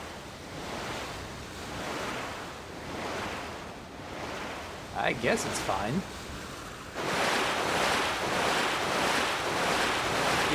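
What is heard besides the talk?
water splashing in the video game Rune Factory: Tides of Destiny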